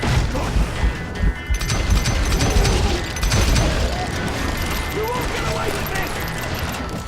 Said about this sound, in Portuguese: Vai tiro pra caramba aqui, mano.